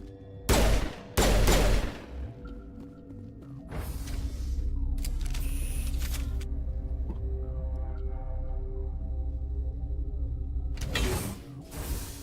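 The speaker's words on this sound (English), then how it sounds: "I do like the pistol." Pistol shots in the Mass Effect video game: two loud bursts early on, another near the end, separated by a steady mechanical hum and creaking.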